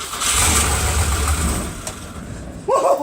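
A Ford Econoline van's newly installed engine fires for the first time, running rough and loud for about two seconds before stumbling down, then a short burst of noise near the end.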